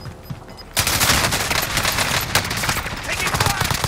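Dense, loud automatic gunfire rattles continuously in a multiplayer shooter video game battle royale, erupting abruptly after a brief quieter moment and holding as sustained bursts throughout.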